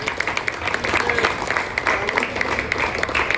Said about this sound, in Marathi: त्यांच्यासाठी सर्वांनी जोरदार टाळ्या वाजवा.